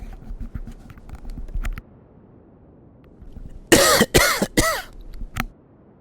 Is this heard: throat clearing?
yes